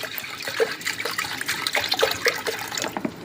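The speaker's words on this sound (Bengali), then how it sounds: "এবার পরিমাণ মতন জল দিয়ে দিলাম।" Water is poured into a pressure cooker holding lentils, a broad splashing trickle with uneven surges running throughout, fairly close and steady, with no talk.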